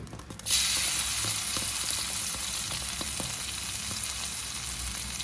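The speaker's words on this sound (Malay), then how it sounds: "Okey, minyak pun dah panas. Kita masukkan bahan-bahan tadi." Garlic and shallots drop into hot oil with a sudden loud sizzle that settles into a steady, close crackling fry with faint stirring clicks.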